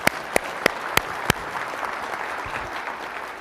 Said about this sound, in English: Why don't you give yourselves a round of applause?